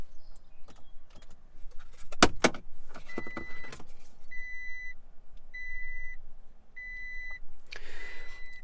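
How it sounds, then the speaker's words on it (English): A truck engine cranks and catches with a few sharp clunks, then settles into a low idle while a cabin chime beeps in evenly spaced bursts. "Let's go ahead and turn the truck on."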